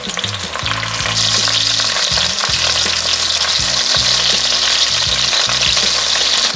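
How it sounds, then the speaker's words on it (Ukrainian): Loud, steady sizzling of zucchini frying in hot oil, with crackling and occasional clatter from a pan, no voices. "З однієї сторони кабачки смажились приблизно 2 хвилинки, перевертаю на іншу сторону."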